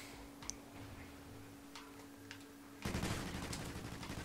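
Rapid automatic gunfire from the Call of Duty Ghosts video game on Xbox One, a dense loud burst of shots breaking in near the end after a quieter stretch with a few faint isolated clicks.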